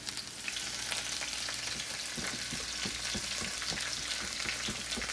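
Wild ramps fry in a pan for a country fried ramp and taters dish, a soft steady sizzle broken by light clicking stirs and crackles, close and alone without talk.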